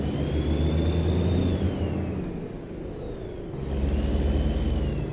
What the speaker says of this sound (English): Nice engine noise on these Kenworths.